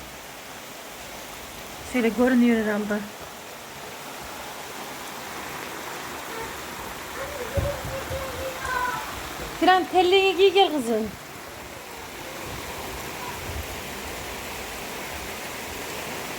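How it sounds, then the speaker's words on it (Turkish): Steady heavy rain hisses throughout, with brief talking and a couple of short vocal bursts over the constant downpour. "Acayip şekilde yağmur başladı."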